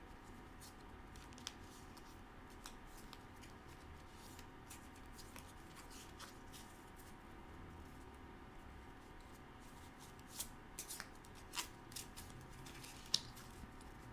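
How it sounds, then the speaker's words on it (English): Tarot cards being shuffled by hand during a quiet reading, a soft steady riffling and sliding texture with a few sharper snaps of card edges near the end, close and faint, with no talking. "take a few deep breaths while I finish shuffling"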